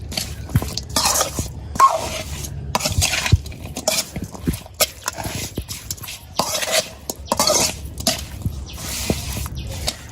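Small fish being mixed by hand with oil in a pan in a village kitchen, repeated wet squishing and irregular clatters of utensils against the pan, close and fairly loud.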